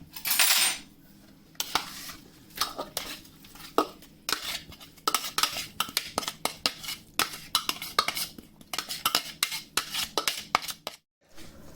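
Chopped ingredients mixed into plant-based vegan kebab mince in a bowl, a utensil clinking and tapping in quick irregular knocks close by, preceded by a brief loud rustle.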